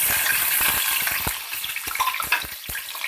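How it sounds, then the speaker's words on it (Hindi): Large-cut onions hit half a cup of hot oil, crackling and sputtering loudly with a bright sizzle and a run of sharp popping bursts. "ऑयल गरम हो जाएगा तो इसके अंदर लार्ज साइज़ की डाल दी है प्याज"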